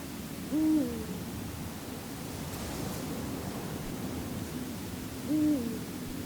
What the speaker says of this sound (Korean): 수리부엉이 수컷은 야간 활동에 앞서 울음소리로 암컷과 의사소통을 합니다.